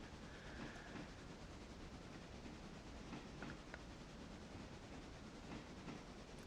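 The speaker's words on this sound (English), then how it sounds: "It's just going to constantly sound like we're going 35 miles an hour everywhere we go with a train." A video game train clatters steadily along the rails, a continuous rumbling rattle with faint clicks, with no voices.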